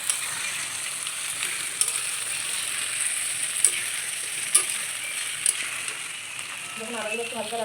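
Ginger-garlic paste fries in oil with onion and green chilli, giving a continuous close sizzle punctuated by several sharp clicks of a spatula against the pan, with faint voices toward the end.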